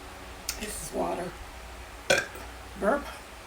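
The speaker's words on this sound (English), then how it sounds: "It's a burp." Human burps, three short separate belches with quiet gaps between them, close and clear, plus a few small mouth clicks.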